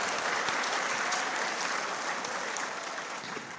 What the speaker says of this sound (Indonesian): Nah, boleh tepuk tangan buat LDI ini